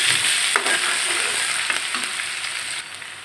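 Ginger garlic paste and a little turmeric fry in hot oil for a sweet pumpkin stir-fry, giving a steady close sizzle with a few scraping stirs of the spoon.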